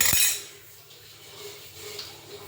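A spoon clatters against a pot of cluster fig curry being mixed to cook, with a quick bright metallic scrape at the very start, then a quiet, low background hum.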